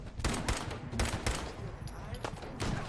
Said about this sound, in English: I'm using my Tommy gun.